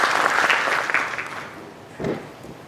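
An audience at a symposium opening ceremony applauds as the mayor is invited to speak: dense clapping that gradually fades, then a short second burst of claps near the end.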